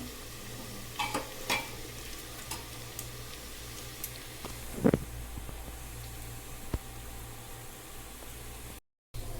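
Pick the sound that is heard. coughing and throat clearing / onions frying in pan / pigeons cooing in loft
onions frying in pan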